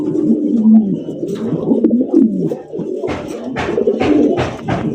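A large breeding pigeon coos repeatedly up close, deep throaty rolling calls in a series of swelling phrases, with no voices present.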